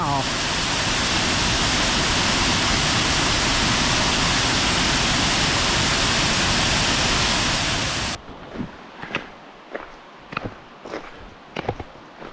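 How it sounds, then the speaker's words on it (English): Hog's Falls waterfall roars as a loud, dense, continuous rush of water for about eight seconds, then cuts to a quieter outdoor scene with scattered footsteps or crunching steps. "This is Hog's Falls that we've just seen now."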